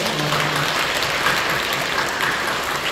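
A church congregation claps during a worship service, a dense, steady wash of applause filling the hall without breaks from start to finish.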